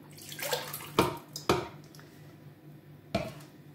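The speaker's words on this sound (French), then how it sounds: "on met 150 ml d'eau dans le shaker" Water poured into a plastic shaker, heard as a few splashy gushes and clunks with quiet pauses between, close up and fairly soft.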